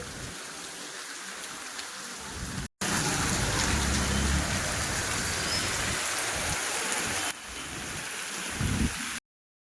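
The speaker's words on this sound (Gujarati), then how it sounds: "વરસાદ પણ ફૂલ ચાલુ છે, તમે પણ જોઈ શકો છો" Heavy rain pours steadily outdoors in Gadhada, a dense, loud and continuous hiss of water on surfaces, broken by two brief cuts, with no voices.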